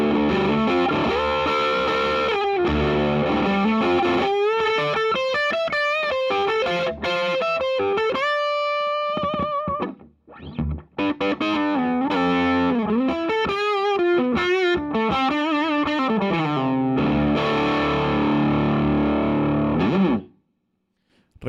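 Electric guitar with a humbucker pickup through a JHS Twin Twelve overdrive pedal, playing driven, distorted lead lines and chords, loud and saturated, with a brief pause midway before the riffing resumes.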